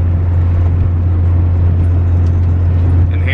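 Steady low cabin rumble and road noise from a Honda Civic on MaxPeedingRods coilovers cruising along, a continuous hum with no talking.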